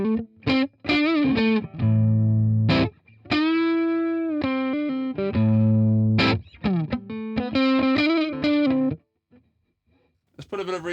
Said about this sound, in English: So let's go pushed, this new push channel